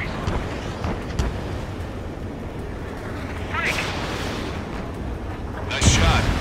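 A fleet platform blowing apart in the Ace Combat video game, with deep rumbling explosions and booming blasts under a continuous roar, swelling to a louder burst near the end.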